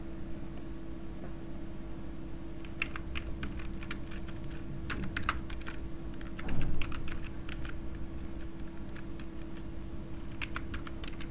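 Computer keyboard typing as Python code is written, with irregular bursts of quick close key taps over a steady electrical hum and no talking.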